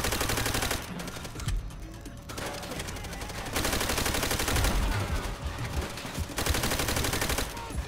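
Rapid bursts of automatic gunfire rattle in the World War II shooter Call of Duty: World at War during a co-op mission, loud and dense, with short pauses between volleys.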